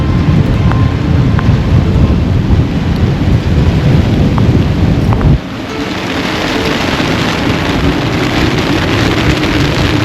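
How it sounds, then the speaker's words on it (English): Heavy rain pours down in a winter squall on the Pacific during a solo sailing passage, amid blustery wind gusts and rumbling, a dense roar that suddenly shifts and thins partway through. "But then squalls come. These are cells with gusts and rain."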